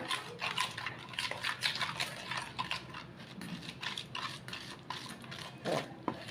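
Homemade henna paste, soaked overnight for about twelve hours, is stirred in a bowl, giving wet squelching and scraping strokes with occasional clinks of the spoon against the bowl, close and continuous.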